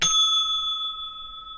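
A single bright bell ding struck once, then ringing out with a long, steady sustained tone that slowly fades, alone with no voices.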